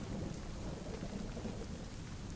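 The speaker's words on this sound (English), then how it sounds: "And all of a sudden it's raining." Rain and thunder in the video game Hellblade: Senua's Sacrifice, a dense steady downpour with a low continuous rumble, even and unbroken, with no talk.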